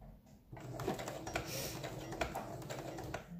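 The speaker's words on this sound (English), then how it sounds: "I'm doing a straight stitch." A sewing machine runs a straight stitch through paper for a zipper pouch. It gives a quiet, fast mechanical chatter that starts after a brief pause and continues steadily, close by. No one speaks.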